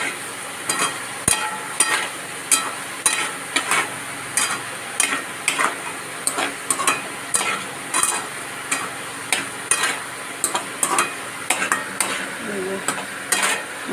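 Potatoes frying in a pan for rohu fish kalia, a spatula scraping and clinking against the pan in a steady rhythm about once a second over a continuous sizzle.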